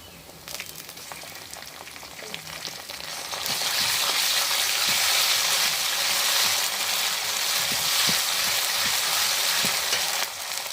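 Garlic paste hits a hot pan of browned onions for a village-style chicken and potato curry, setting off a loud, steady frying sizzle that swells after a quieter start and holds continuously.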